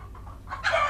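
Chickens in a poultry setting cluck briefly, a couple of soft clucks followed by a louder, close call at the end.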